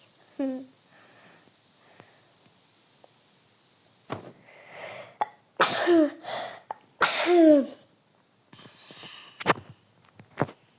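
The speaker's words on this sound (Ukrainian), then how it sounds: "Извиняюсь, чихнул." A single sneeze with a sharp burst, then sniffing and a few more breathy bursts nearby, amid quiet background sounds, with a voice audible around it.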